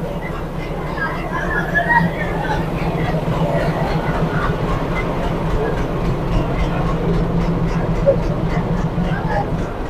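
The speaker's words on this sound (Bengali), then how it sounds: "এখন কিন্তু আমাদের ট্রেনটা ঢুকছে।" The Maa Tara Express pulls into a platform at Sealdah station in Kolkata, giving a steady low rumble with a faint rhythmic clatter that holds for about ten seconds under busy platform noise and nearby voices.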